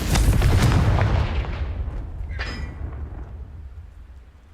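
A Confringo blasting spell going off in Hogwarts Legacy, heard as a heavy, booming explosion that hits at once and rumbles away over several seconds, with a brief crackle partway through the decay.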